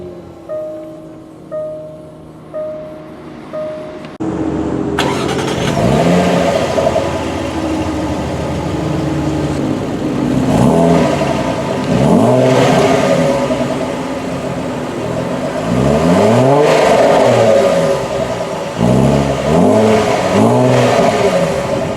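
A 2017 Jaguar F-Pace 35t R-Sport SUV with push-button start: a few chimes, then the engine cranks and catches with a loud flare, settles into idle, and revs up and down several times, close by and with no talking.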